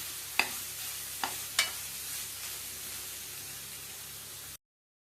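Onion pieces fry in a pan for an egg curry, heard as a soft, steady sizzle with three sharp stirring clicks early on, and then silence at the end.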